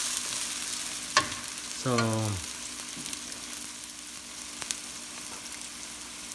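Chicken curry ingredients fry in a pan with a steady low sizzle. A short voiced sound and a few clinks of a utensil rise over the frying.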